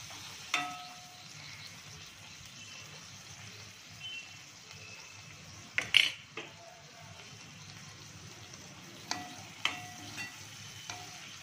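Soaked dried shrimp sizzle quietly in a hot pan as they are stir-fried with wild greens, with occasional sharp clinks of a spoon against the pan.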